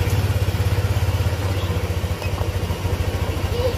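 A fuel-injected Honda motorcycle engine, just after an ECM reset, runs at idle with a steady low rhythmic chug and faint mechanical clatter, loud and close throughout.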